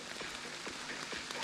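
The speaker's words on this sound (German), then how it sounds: "Es regnet in Strömen." Heavy rain pours steadily at an outdoor enduro mountain bike race venue on the Geisskopf, a dense continuous hiss with scattered drops standing out, no voices over it.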